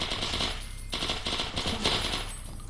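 A Sterling submachine gun in Fallout: New Vegas fires in rapid automatic bursts, three or four sharp rattling strings with brief gaps between them, close and crisp.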